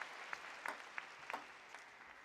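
Scattered audience clapping in a table tennis arena at a Korea Open men's singles quarterfinal, a handful of sharp claps standing out over a soft steady crowd bed, fairly distant and subdued.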